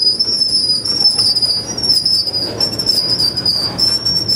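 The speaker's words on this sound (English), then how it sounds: "That is the fastest I've ever seen a train stop in my life." A CN freight train in emergency braking at Acheson, Alberta, its wheels squealing in a loud, sustained high-pitched shriek over the rumble and clatter of the cars, close by.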